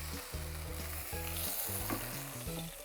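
A whole head of lettuce searing in a pan until wilted and browned, giving a steady, close frying sizzle with a hissy crackle, while a low rhythmic musical tone plays underneath.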